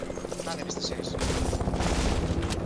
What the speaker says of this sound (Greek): Ελικόπτερο.